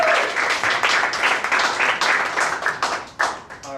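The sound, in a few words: audience applause at improv show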